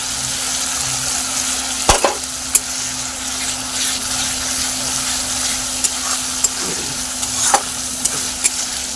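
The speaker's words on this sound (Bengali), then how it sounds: "এই দেখো মশলাটা কষানো হচ্ছে" Spices and Kashmiri chili powder frying in a pan for biryani, a steady close sizzle with occasional sharp clicks of a stirring spoon against the pot, no talking.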